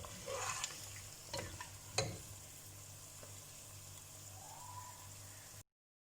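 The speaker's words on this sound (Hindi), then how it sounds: "इसको हम भूनते हैं कि हल्का हल्का गोल्डन हो जाए" Biryani ingredients are fried in a pan until lightly golden, making a low, even sizzle with a few scraping stir strokes early on before the clip cuts off.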